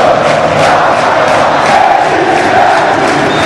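A football stadium crowd of Cruzeiro supporters roars and cheers loudly and continuously, a dense wall of massed voices with no break across the whole stretch.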